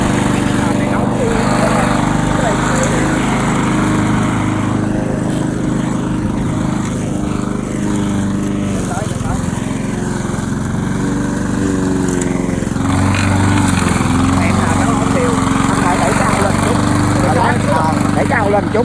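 A grass cutter's small engine runs steadily and loudly up close, a constant buzzing drone with slight wavering in pitch, while someone talks over it.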